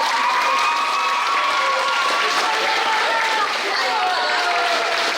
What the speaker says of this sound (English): I want you all to give her a big round of applause